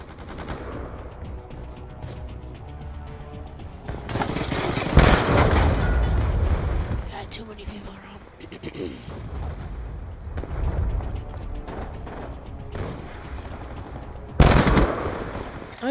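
Video game gunfire from Black Ops 2 crackles in bursts, with loud sharp shots and rapid automatic fire over a continuous background of game noise.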